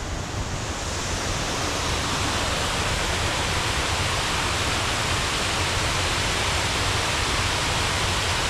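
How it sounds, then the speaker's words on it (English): Steady, loud rush of a forest waterfall, a continuous broadband roar of falling water filling the whole clip with no voices. "Some more waterfalls just up here a bit."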